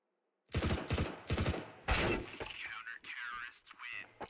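Gunfire erupts in Counter-Strike 2 as several rapid, close bursts follow one another, then a swooshing, ringing tail and further short shots.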